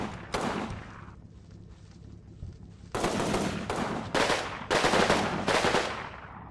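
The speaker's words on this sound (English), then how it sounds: "Everyone's shooting now." Gunfire from the WWII strategy game Combat Mission Normandy, fighting on the road to Montebourg: several loud bursts of machine-gun and rifle fire, sparse at first and then tightly packed in heavy volleys.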